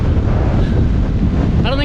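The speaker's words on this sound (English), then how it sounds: "It's really windy though." Strong wind buffets the microphone among the tall sand dunes of Great Sand Dunes National Park, a loud, continuous roar with gusty rumble throughout and a brief voice near the end.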